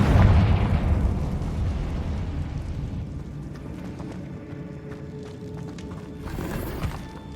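A Confringo fire spell exploding in Hogwarts Legacy, a loud deep boom that rolls off into a fading rumble, followed by scattered crackles and a smaller burst near the end.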